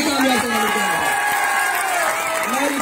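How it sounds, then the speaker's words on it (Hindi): Crowd applause and cheering at a cricket tournament in Karachi fill the whole stretch, a dense steady clapping wash with voices mixed in. "खुर्रम मजीद भाई के लिए जोरदार तालियां होनी चाहिए"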